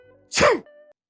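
A single short, sharp human sneeze bursts out near the start, close and loud, preceded and followed by faint low background tones.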